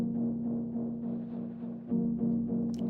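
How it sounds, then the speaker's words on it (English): Mellotron playing soft sustained chords in an ambient pop track, a warm, quiet, steady tone with gentle changes between chords, heard on its own without any voice. "Now we have this mellotron that is playing the chords."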